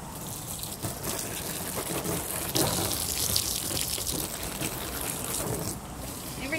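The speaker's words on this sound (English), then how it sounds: "Every now and again, I just rinse out my cloth and give it a good squeeze" Cloth being rinsed under running water while washing off silicone, a steady rushing gush of tap water with splashing as the fabric is worked through the stream.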